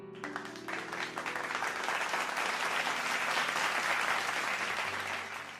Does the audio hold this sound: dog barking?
no